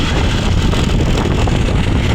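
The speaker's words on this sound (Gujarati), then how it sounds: "વાયરો ખૂબ આવે બાઈક ઉપર" Strong wind buffets the microphone while riding a motorbike in rural Banaskantha near Sipu dam, a loud constant low rumble and roar throughout with no pauses.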